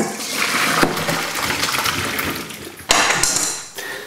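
Boiled potatoes are tipped into a colander to drain, a loud close gush and splash of water with clattering of pan and potatoes, surging again near the end.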